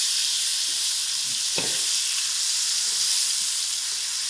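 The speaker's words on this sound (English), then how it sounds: "To this masala, I'm going to add in my tomatoes." Tomatoes go into hot masala in a pan, setting off a steady, close sizzling hiss with one brief stir or clatter partway through.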